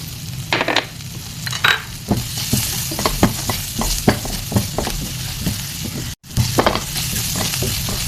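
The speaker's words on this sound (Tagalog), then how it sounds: "Then, igisa na natin dyan yung ating garlic." Garlic sautés in a little oil and butter in a pan, a steady sizzle broken by frequent scraping stirs and clicks of a utensil, close and fairly loud, with one brief drop to near silence partway through.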